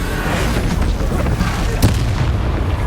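A Bombarda spell explosion in Hogwarts Legacy lands as a deep, loud boom among continuous battle noise, with one sharp burst standing out midway.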